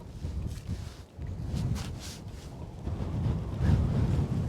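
Wind gusts outdoors beside a lake, buffeting the microphone in rough surging waves that swell louder toward the end, with no talk.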